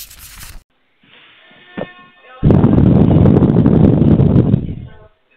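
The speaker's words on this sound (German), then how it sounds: "Ist windig." Loud, rough wind buffeting the microphone outdoors in a long rumbling gust after a brief hiss and a short thump.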